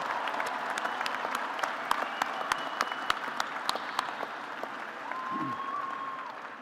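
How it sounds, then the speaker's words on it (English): Sustained applause from a large audience at a university commencement ceremony for graduating candidates, steady dense clapping with a few sharper nearby claps, and a brief voice toward the end. "Let us applaud the candidates from the College of Natural Resources and Environment."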